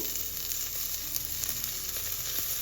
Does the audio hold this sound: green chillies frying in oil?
yes